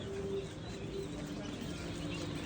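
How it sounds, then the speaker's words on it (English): Turkeys vocalize at a farm store, with faint, low, drawn-out calls over steady background noise from the store. "These are turkeys."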